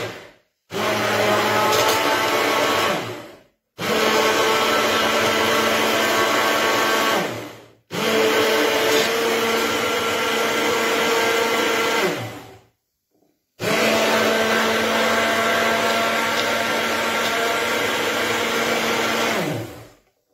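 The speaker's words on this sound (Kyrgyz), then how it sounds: "анан биз блендер менен эмне кылабыз?" A blender grinds almonds to make almond milk, running in four long, loud bursts separated by short pauses, with the motor whine steady through each run and no voices.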